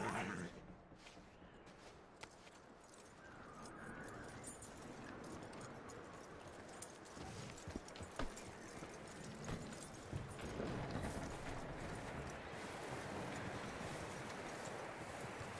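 Hooves of a horse clip-clop steadily in Red Dead Redemption 2, close by and loud. A continuous bed of wind and outdoor ambience runs underneath, and no one speaks.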